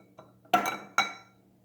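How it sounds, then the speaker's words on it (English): Ice cubes drop into a glass for a bourbon old fashioned, with two distinct loud clinks and a couple of faint taps before them, close and without talk. "let's get a couple ice cubes in there to chill it"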